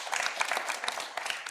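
Audience applause breaks out briefly, a quiet scattering of hand claps at a modest distance, lasting only a moment with no talking over it.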